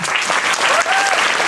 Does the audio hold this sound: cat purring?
no